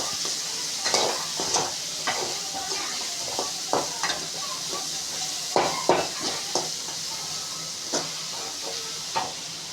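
Grated carrot is stirred into vegetables with chopped beans frying in a pan for Indian-style macaroni, a constant sizzle broken by repeated scraping and clinking strokes of the spoon against the pan.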